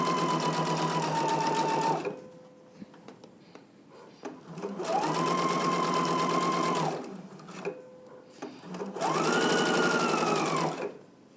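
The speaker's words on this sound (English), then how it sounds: "Let's go ahead and do all the pressing and stitch this carrier in place together." Sewing machine stitching a fabric belt carrier, running in three loud sustained bursts of rapid whirring with quiet pauses between, close and alone without speech.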